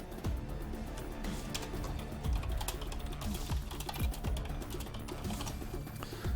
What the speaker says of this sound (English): It always feels weird typing in shorthand like that